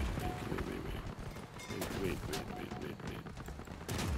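Parser weapons firing in the vehicle combat game Crossout, a rapid scatter of sharp booming shots and impacts layered over engine rumble, with a voice talking throughout.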